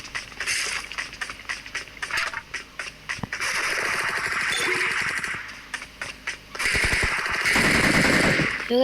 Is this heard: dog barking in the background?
no